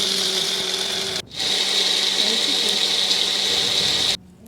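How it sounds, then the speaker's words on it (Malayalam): An electric mixie blends a Sharjah shake with vanilla ice cream in a loud, steady whirring drone. It runs without pause for about three seconds, then cuts off abruptly, with no talking over it. "വാനില ഐസ്ക്രീമാണ്, അതും കൂടി ചേർത്തിട്ട് നമുക്ക് മിക്സിയിൽ ഒന്ന് ജസ്റ്റ് അടിച്ചിട്ട് വരാം."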